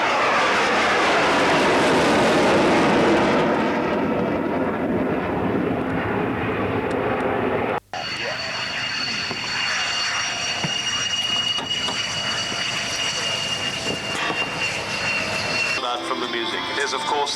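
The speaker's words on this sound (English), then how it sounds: "It is, of course, the F-14 Tomcat, otherwise known as Top Gun." An F-14 Tomcat jet roars past at an airshow, a loud broad rushing engine roar that fades and shifts as it passes, with a sustained engine whine continuing afterward.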